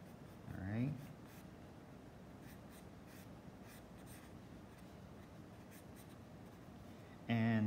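Charcoal scratches and rubs across paper while a portrait eye is drawn, a soft, steady scratchy texture with brief stroke bursts, faint and close, as someone speaks briefly at the start and end.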